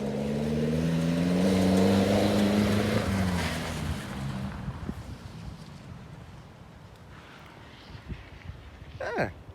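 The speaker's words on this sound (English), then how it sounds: "It's just engine making a really loud noise" A car engine floored at an abandoned site, roaring loudly with rising harmonic revs for about four seconds, then dropping to a lower, rougher idle with scattered knocks and clatter.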